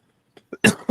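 A couple of sharp, close coughs after a faint throat noise, brief and loud.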